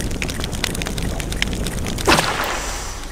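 Fire is doused in the stealth game Thief 2, heard as a sudden hissing, sizzling burst about two-thirds through. It rises over steady background game noise and tapering off.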